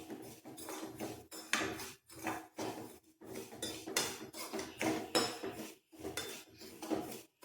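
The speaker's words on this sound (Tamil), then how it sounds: "1 கப் ரவை எடுத்திருக்கேன், அதை வறுத்துக்குவோம்." Semolina being dry-roasted in a pan, with rhythmic scraping and clinking of a metal spoon against the pan in short regular bursts separated by brief pauses, close and fairly quiet, no voices.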